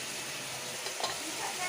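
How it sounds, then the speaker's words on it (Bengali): Spice paste of tomato, ginger, cumin, garlic, cashews and curry leaves frying in a pan while being stirred makes a soft, continuous sizzle with faint scraping, quiet and short. "এখন এইভাবে মশলাটাকে নেড়ে নেবো, ভালোভাবে কষিয়ে নেবো যতক্ষণ না কষে।"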